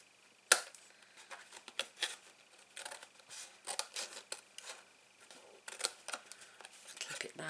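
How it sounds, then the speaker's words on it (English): Scissors snipping through card while making a large gift box, a string of short crisp cuts at close range, with a soft voice now and then between them. "I can't get in there with my long scissors."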